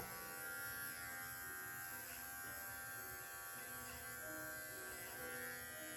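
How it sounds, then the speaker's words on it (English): Electric clipper trimming along a poodle's face toward the corner of the eye, a steady, close, continuous buzzing hum that holds evenly throughout with no talking. "So I'm going to put my clipper at that top edge, and I'm going to come forward to the corner of her eye."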